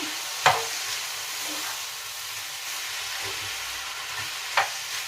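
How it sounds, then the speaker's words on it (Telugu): Vegetable fried rice being stirred in a small pan with green and red chilli sauce, soy sauce and vinegar, a soft continuous sizzle broken by two sharp scraping knocks of the spatula against the pan. "red chilli sauce soya sauce vinegar వేసైతే బాగా కలుపుకుందాం"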